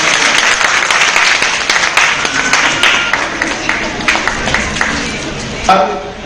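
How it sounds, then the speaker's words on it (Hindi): Sustained audience applause fills an event hall at a memorial ceremony honouring doctors, nurses and sanitation workers, a dense, loud wash of many hands clapping that swells briefly near the end. "आप सबकी तालियां इस हॉल को खामोश कर देती हैं"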